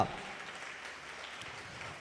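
An audience at a Christmas church event claps steadily, a soft, diffuse patter of many hands heard from some distance.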